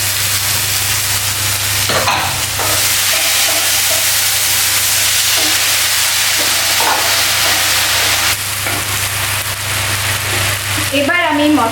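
Masala paste sizzling and frying loudly in a pan after onions for chicken curry, a steady dense hiss with stirring scrapes throughout, and a voice faintly under the noise.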